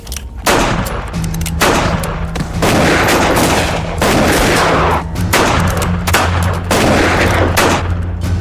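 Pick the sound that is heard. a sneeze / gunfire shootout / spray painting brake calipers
gunfire shootout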